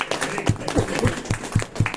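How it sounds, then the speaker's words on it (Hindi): Scattered, uneven clapping from a small audience at a presentation, individual claps distinct and sparse rather than a full ovation, fairly quiet. "क्या बात है, तालियां तो बजा दो।"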